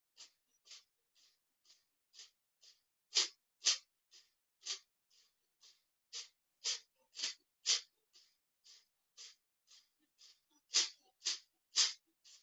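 Rapid rhythmic breath of fire breathing from Kundalini yoga practice, a long run of short sharp nasal exhales in a steady pulse, close and fairly soft, with some puffs stronger than others and no talk.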